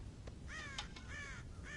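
Crows cawing around a farm silo in the video game Red Dead Redemption, several harsh caws in quick succession over a low rumbling background.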